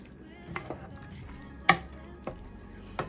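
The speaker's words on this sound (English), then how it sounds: "So let's get some bacon in this. Let's get that stirred in." A spoon scrapes and taps through a pot of mac and cheese as bacon is stirred in, a few sharp clinks and scrapes at irregular moments over a quiet, soft background.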